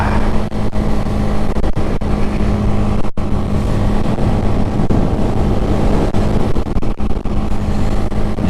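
A red Honda Grom motorcycle rides at speed around fifty miles an hour, its engine droning loudly and continuously under heavy wind buffeting, with no talking.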